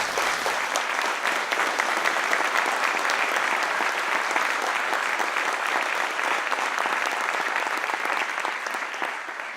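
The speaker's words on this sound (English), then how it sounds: "Let's give the Whitehall Division of Police a round of applause." An audience at a 2018 city address applauds the Whitehall Division of Police, a dense, loud sustained clapping from a large crowd that holds steady for several seconds and fades slightly at the end.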